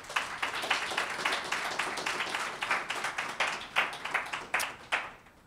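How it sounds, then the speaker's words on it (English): A small audience at a university 5k launch event claps steadily, a brisk round of individual hand claps with a slightly uneven rhythm, fairly close, that thins out toward the end with no talking over it. "please give them a round of applause"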